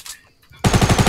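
Rapid automatic gunfire in the Fortnite video game, a loud burst of about six evenly spaced shots starting abruptly after a quiet moment.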